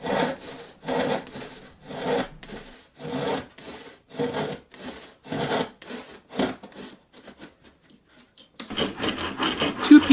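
Handsaw cutting through wood while building a simple birdhouse: rhythmic rasping strokes, about a dozen back-and-forth passes that grow shorter and quicker toward the end, close and alone.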